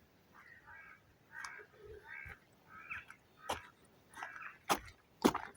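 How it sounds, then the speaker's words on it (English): Crows caw in dark woods at night, a string of harsh calls spaced irregularly, some distant and softer, the last few sharper and louder. "They're still making that noise"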